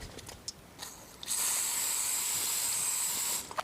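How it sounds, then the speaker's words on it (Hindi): Hairspray is sprayed onto a styled hairdo in one long, steady hissing burst lasting about two seconds, close and fairly loud, with faint handling noises before and after. "अब ये स्प्रेड हो गया है, और उसके बाद हम क्या करेंगे, जस्ट इसको स्प्रे करेंगे।"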